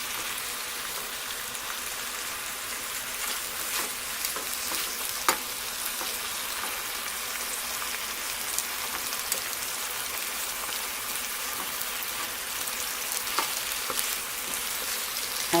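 Spinach sizzles steadily in hot olive oil while being turned, a dense, even crackle with faint scrapes of stirring, close and continuous, with no talking.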